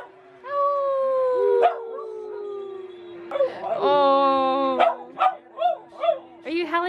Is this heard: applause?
no